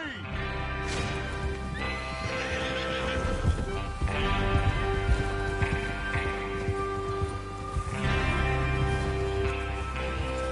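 Several horses in the video game Red Dead Redemption 2 whinny loudly in repeated calls over clip-clopping hooves, with voices speaking in the background.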